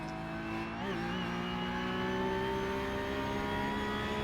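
Porsche Cup race car engine heard from onboard, a steady loud drone with a brief rise in pitch around the first second, then a sustained high-revving tone continuing alone without talk.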